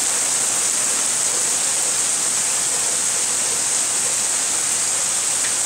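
Steady, dense rain pouring down during an Arkansas thunderstorm, falling over a garden as a loud, continuous hiss with no breaks and no voices.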